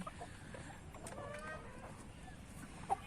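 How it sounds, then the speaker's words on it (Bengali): Tiger chickens clucking softly in a farmyard while a new coop setup is being built, faint and intermittent over low background noise, with one brief sharper call near the end. "আমার টাইগার মুরগিগুলো"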